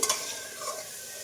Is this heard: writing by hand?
no